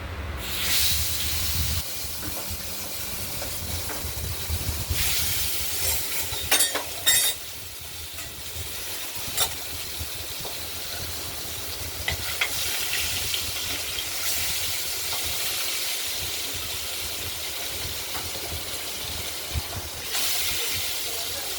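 Salted katla fish pieces rubbed with salt and turmeric hitting hot oil, a loud broad hiss and sputter that surges at first, then settles into continuous sizzling with crackling spikes.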